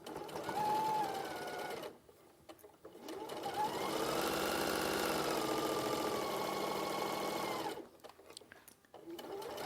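A sewing machine runs steadily while stitching a quarter-inch seam down the edges of fabric strips, a close, continuous mechanical whir broken by short pauses at the start and end.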